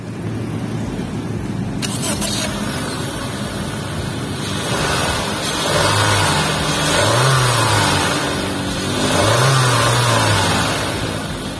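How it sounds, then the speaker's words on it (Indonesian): Honda City Hatchback RS with a 1.5-litre DOHC i-VTEC engine starts up and runs, with a sharp onset followed by a steady idle and a couple of swelling revs near the end. "Engine start stop bagian kanan sini, foot on the brake. Yuk kita start up dulu."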